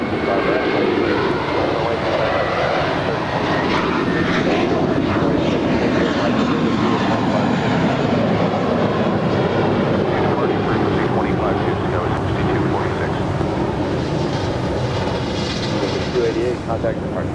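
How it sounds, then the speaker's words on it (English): A Boeing 737-800 jet airliner roars loudly and steadily on its takeoff run at Los Angeles International Airport, a broad rumbling engine wash, with radio chatter and voices underneath. "It's followed by American Airlines Flight 539 heading to Austin in a 737-800. Take off, 2 right"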